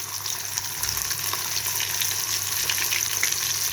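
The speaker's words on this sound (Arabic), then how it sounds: "ننزل على زيت سخن" Fish for a crispy fried fish dish sizzles and bubbles in hot oil, a loud, dense, continuous frying hiss, close up, with no talking.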